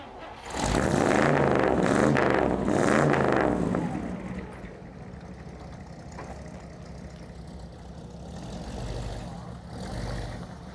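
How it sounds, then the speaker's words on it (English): A Chevrolet Bel Air's gas V8 at a car meet cranks and roars to life loud and close, revs in heavy surges for a few seconds, then settles into a quieter rumbling idle beneath crowd noise. "Let's see the Bel Air start."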